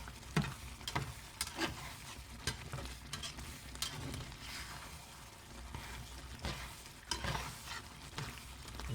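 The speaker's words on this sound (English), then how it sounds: "we're also deglazing the bottom of that pan as well" Beef for a beef and Guinness pie sizzles steadily in a hot pan while the bottom is deglazed, with repeated scraping and stirring clicks over a continuous frying hiss.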